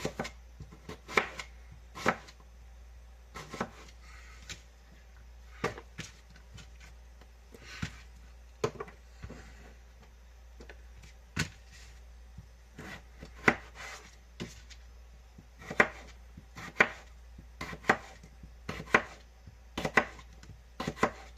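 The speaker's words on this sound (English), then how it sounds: "now that you guys know how the potatoes get prepped for this recipe, I'm going to finish slicing" Potatoes sliced with a knife on a cutting board, a series of crisp close taps at an uneven pace, some in quick clusters, with a quiet background and no talking.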